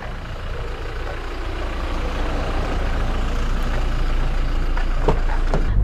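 A vehicle drives on and on through a steady broadband rumble near the Mandalika circuit, with the engine and road noise growing slightly louder and a few faint knocks toward the end.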